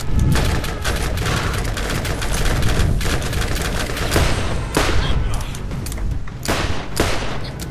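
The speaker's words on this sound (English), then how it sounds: "I fired like 3 shots" Dense, continuous gunfire from the video game Borderlands, bursts and rapid shots stacked over one another at steady loudness with game sound effects, no gaps or quiet stretches throughout.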